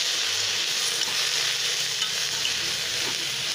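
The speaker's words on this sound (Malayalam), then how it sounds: "നന്നായിട്ടൊന്ന് ഇളക്കി" Colocasia leaf and dal thoran is stirred in a pan over low heat, giving a steady soft sizzle with light scraping throughout.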